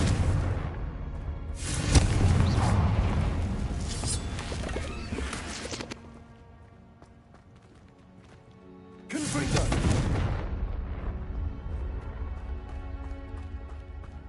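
Confringo blasting spell going off in the Hogwarts Legacy video game, a loud broadband burst of explosive rumble and crackle lasting several seconds, dropping away briefly, then a second heavy blast with lingering debris and game music.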